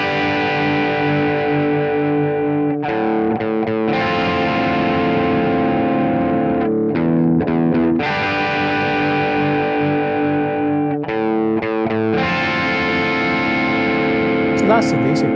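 An electric guitar with distortion and chorus effects plays the basic riff of a song slowly, in sustained chords separated by short breaks, loud and close, with no talking.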